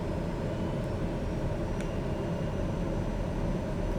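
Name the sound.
propeller aircraft engine in video game Microsoft Flight Simulator 2020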